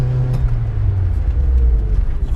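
A Peugeot 205 GTI or VW Up GTI engine holds a steady, loud rev, with a strong low drone that climbs slightly in pitch. No talk rides over it.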